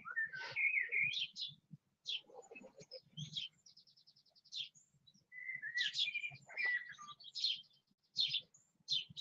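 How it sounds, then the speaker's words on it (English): Noisy birds chirping outdoors, repeated bright tweets, trills and whistled calls in bursts, fairly close and clear, with brief pauses between phrases. "the noisy birds again"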